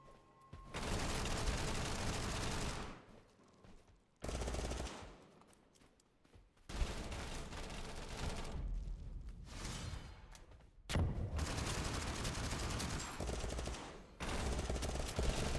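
An MG42 machine gun fires in the video game Totally Accurate Battlegrounds (TABG): long, loud, sustained bursts of rapid fire, broken by brief quiet gaps.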